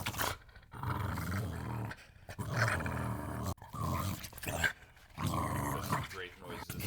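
Hank the dog growls at normal speed in repeated rough, throaty bursts of about a second each, separated by short silences, loud and close.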